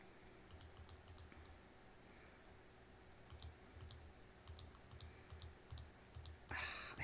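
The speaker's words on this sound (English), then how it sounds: "Because I'm clicking a lot to delete the sand." Rapid computer clicking comes from someone deleting sand in a game, quiet crisp clicks in short bursts with pauses between, ending in a brief louder rustle near the microphone; nobody talks.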